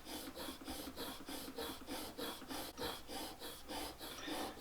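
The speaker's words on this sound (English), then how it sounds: "The final step is using my stropping leather, which is a little beat up, but it still works really well." A knife blade stroked back and forth on a worn leather strop, a soft rhythmic rasping swish repeating roughly every half second, close up and fairly quiet.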